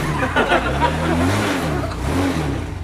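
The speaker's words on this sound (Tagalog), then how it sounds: "Hindi na siya namamatay pagka nirev mo." A motorcycle engine, just cleaned of a gas and water mixture in the carburetor, is revved up and down close by, holding a steady idle between throttle blips without stalling.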